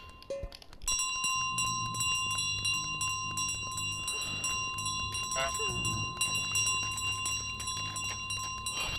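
A bell in Untitled Goose Game rings nearly continuously, bright and metallic, with loud repeated clanging over a busy game background. It carries on for several seconds without pause.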